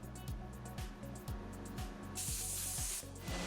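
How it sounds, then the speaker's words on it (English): A clear finish sprayed from a can onto a wooden plaque made of two contrasting woods, a steady close hiss that swells louder partway through, over a faint repeating background beat. "The last step is to spray on a clear finish"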